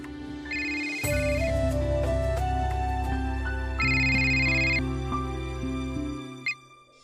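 A phone ringtone plays a loud, electronic melody for several seconds, repeating its tune, then cuts off.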